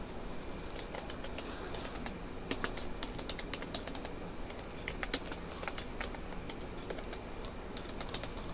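Steady typing on a computer keyboard while entering data into a spreadsheet, quick irregular key clicks close by and fairly quiet, continuing throughout with a faint background hum.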